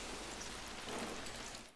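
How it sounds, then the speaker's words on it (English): Blood falling like rain in a music video, a steady, dense patter of drops across the whole stretch, fairly quiet and without voices. "I don't like the sound of like the blood falling"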